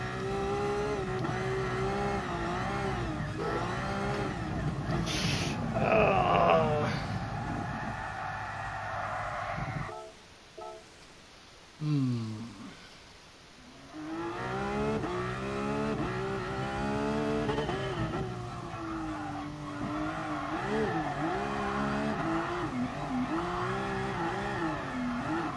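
Racing-game car engine revving hard while drifting on the Nordschleife in GT Sport, a loud continuous rising and falling drone with a brief tire-squeal moment and a sudden drop midway before the revs build again.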